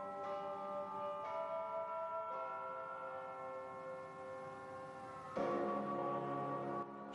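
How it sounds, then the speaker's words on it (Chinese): The Jianghan Customs clock tower bell rings at midnight beside the Yangtze in Wuhan. Deep, sustained tolls are struck every second or few seconds, each hum lingering and fairly faint in the distance. "时针指向4月8号0时，长江之畔，武汉江汉关钟声响起，雄浑而又悠长。"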